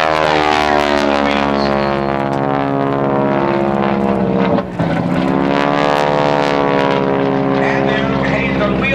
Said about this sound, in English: a Pratt & Whitney air-cooled radial piston engine